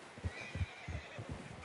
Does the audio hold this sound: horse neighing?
yes